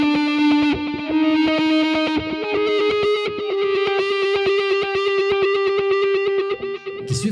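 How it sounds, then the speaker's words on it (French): Electric guitar played through echo, reverb and distortion effects in Amplitube 3, a sustained repeating note sequence in a fast tempo with dense delay repeats stacking into a loud, continuous shimmering wash. "J'ai fait donc des espèces de séquences grâce entre autres à ces pédales-là."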